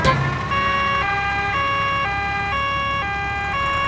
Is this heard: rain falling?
no